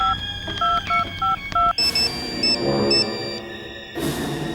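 Telephone keypad dialing tones in a quick series of beeps, followed by a line ringing in repeated electronic bursts, close and clear with no talking.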